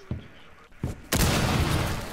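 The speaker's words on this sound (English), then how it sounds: "Sound of explosions." Loud bursts of explosions in the tactical shooter game Rainbow Six Siege, two short blasts followed by a sustained, heavy roaring boom that fills the rest of the moment.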